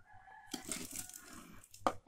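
Chickens cluck close by, with a burst of squawks and wing flutters and a sharp call near the end over faint background noise.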